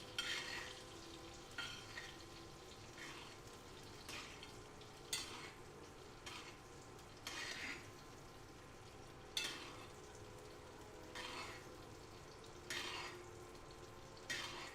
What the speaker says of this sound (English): you basically continually ladle butter onto the steak